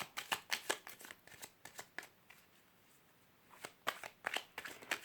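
Tarot cards being shuffled by hand in quick riffling bursts, close and crisp, with a short pause midway before another run of flicking shuffles.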